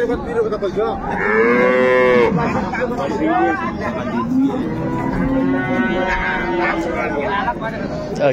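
Several long, deep cow moos, one after another, close by, with faint chatter of people in the background at a dairy cattle market in Ambari, Dinajpur.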